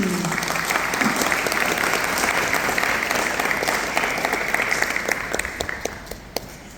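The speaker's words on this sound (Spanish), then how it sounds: "Un aplauso a los que egresan." A crowd applauds graduates at a regional Ypacaraí ceremony of the Guaraní language athenaeum, with full, sustained clapping throughout that eases slightly toward the end.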